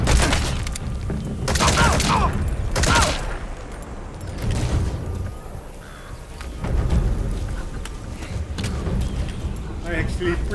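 Rapid bursts of gunfire in the video game Metal Gear Solid 5 The Phantom Pain, heavy rolling volleys that come and go in waves with brief lulls, dense and loud throughout, with some talk mixed in.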